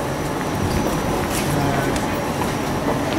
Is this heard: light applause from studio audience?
no